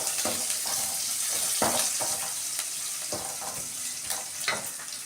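Chicken gravy ingredients sauté in a pan with a steady hiss and sizzle, broken by a few brief stirring scrapes and clatters, close and moderately loud, with no talking.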